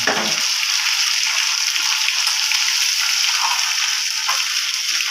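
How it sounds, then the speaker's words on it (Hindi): Green chillies fry in a pan with a steady, loud, close sizzle that runs unbroken throughout, with no talking. "ये हमारी हरी मिर्च चलेगी जी, ये अभी फ्राई हो जाएगी।"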